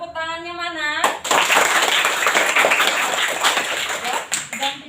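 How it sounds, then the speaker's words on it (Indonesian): Sixth-grade students at an elementary school classroom in Ambengan break into loud, dense group applause that runs steadily for about four seconds, right after a brief tonal voice-like sound at the start. "Oke, tepuk tangannya mana?"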